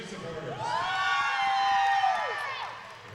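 A roller derby crowd cheering and whooping for the in-house announcers in an arena, with a swelling shout of voices that peaks and then fades over a few seconds.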